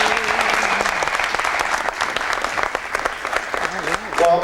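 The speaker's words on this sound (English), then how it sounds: "So please, let's give them a round of applause." An audience at a boxing event, just before the weigh-ins, gives a sustained round of clapping. The applause is dense and steady, with a voice briefly audible near the end.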